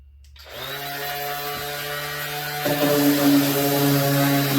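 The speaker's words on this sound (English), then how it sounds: "the key is to abrade it, to rough it up to below that sheen" A power tool whines up to speed and abrades the surface of a large polyethylene tank, a steady droning hum with strong harmonics that grows louder and rougher as it bears down, alone and close.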